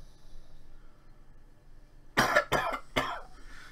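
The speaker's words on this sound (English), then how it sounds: "I just got to stop coughing." A man coughing at home, a quiet stretch of room tone broken by three harsh, close coughs in quick succession, each loud and abrupt with no talk around them.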